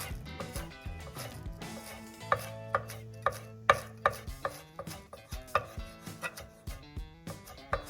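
Ingredients for homemade ranch dressing are chopped with a knife on a cutting board, giving a run of quick, sharp, evenly spaced taps that grow more regular, heard up close over faint background music.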